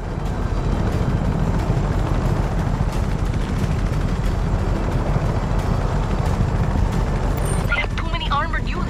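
Helicopter rotor and engine roar in the open-world video game Just Cause 3, a dense, steady wash of noise throughout, with game sounds and talk near the end.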